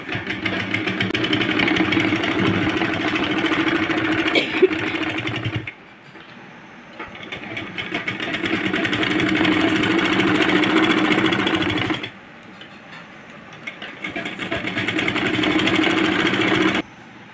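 Sewing machine stitching a baby girl's half pant, running in two long loud bursts of steady whirring stitches, each several seconds, separated by a quieter pause of handling fabric.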